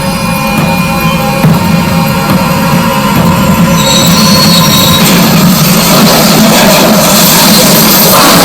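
A freight train hauling 65 tanker cars leaves the track in the center of Lac-Mégantic. A loud, unbroken roaring rumble is laced with high, sustained metallic squealing tones that intensify toward the end.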